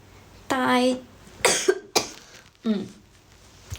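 A person coughs three or four times, close and fairly loud, with a hoarse, voiced first cough and then sharper, shorter ones, with brief gaps between them.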